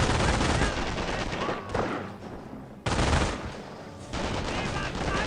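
Machine gun fire in the mobile war game Company of Heroes comes in dense crackling bursts, with two short lulls between loud volleys of rapid shots.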